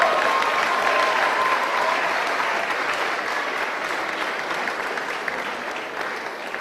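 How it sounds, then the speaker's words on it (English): Graduation ceremony audience applauding the graduates' families, a broad, sustained wash of clapping from a large crowd that stays steady and slowly tapers off. "please give them a round of applause for helping get you to where you are"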